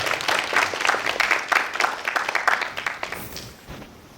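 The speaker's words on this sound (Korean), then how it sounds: "박수로 모시겠습니다." A live audience at a Korean talk event breaks into a dense burst of applause to welcome a pan flute performer, many hands clapping at once before the sound thins and fades toward the end.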